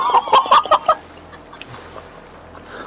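A chicken in the GTA video game clucks in a quick burst of about five loud, close clucks over the first second, followed by quiet game ambience with no talk.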